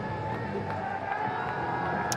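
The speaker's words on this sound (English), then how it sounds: "The crowd are delighted." A cricket crowd cheers and roars after a big shot in a Bangladesh versus New Zealand one-day international, a dense, steady wall of stadium noise with a whoop near the end and faint commentary beneath.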